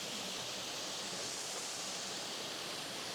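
A waterfall pours continuously, a dense, even hiss of rushing water that fills the whole scene at close range, steady and unbroken with no voices over it.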